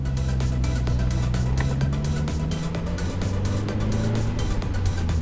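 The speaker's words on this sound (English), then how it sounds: "I am as ready as I'm ever going to be in a wet supercharged MX5" A supercharged Mazda MX-5 runs on a wet skid pan, its engine a steady loud drone with rising pitch as it accelerates, tyres and spray hissing throughout, with no talk.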